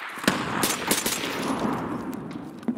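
Gunfire in the video game Escape From Tarkov, likely from a suppressed SVD rifle on the Shoreline map, cracks in a rapid burst of sharp shots, loud and close, with a final shot near the end.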